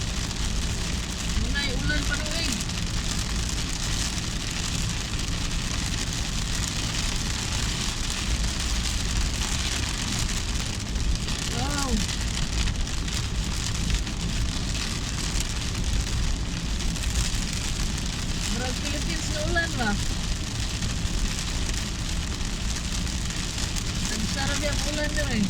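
Heavy rain pours steadily without a break, a dense constant wash of noise with voices talking over it.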